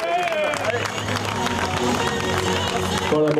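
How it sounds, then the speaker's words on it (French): Crowd applause at the Roc d'Azur 2011 mountain bike race podium, dense continuous clapping with a voice over a loudspeaker talking above it. "On va applaudir tout le monde, on applaudit tous les bénévoles du Roc d'Azur,"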